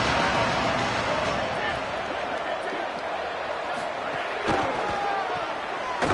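A hostile football crowd roars steadily in a stadium, a thick continuous wall of noise with occasional louder surges, heard under a commentator's voice.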